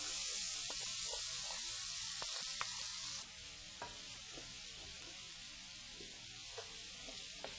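Onion frying in a paella pan makes a steady bright sizzle that drops a little in loudness partway through, dotted with small pops and light scraping taps of stirring.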